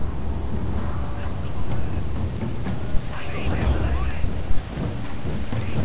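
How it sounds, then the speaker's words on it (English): Heavy rain in Total War: Shogun 2 battle pours steadily with a low rumbling wash, broken by a few soft knocks and taps. "see it's raining really hard here"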